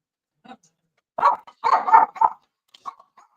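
Several excited dogs bark in short bursts indoors, a few clustered yelps and barks close by with brief pauses between them.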